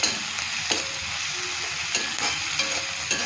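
Chopped green chillies sautéing in hot oil with a steady, close sizzle, punctuated every second or so by the scrape of a stirring spoon against the pan.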